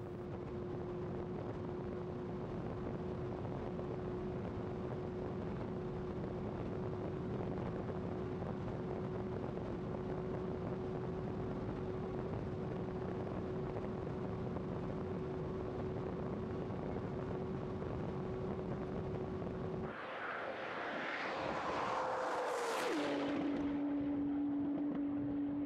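Car held in sixth gear and pulling toward top speed on the Nardo high-speed track, a steady loud engine drone with constant wind roar, then a sudden shift near the end to a changed, higher whine.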